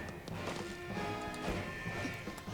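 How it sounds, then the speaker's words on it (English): A glass pane shatters under a punch in The Incredibles video game from 2004, a loud crash with tinkling debris over a steady electronic alarm tone that keeps sounding throughout. "destroying the glass and revealing these lasers makes the alarm sound effect louder"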